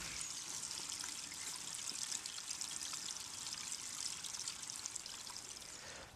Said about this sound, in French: de ce tapis de galets jaillira ce jet d'eau à l'effet rafraîchissant